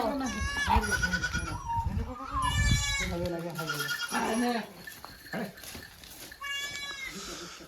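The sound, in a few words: goat with newborn kids bleating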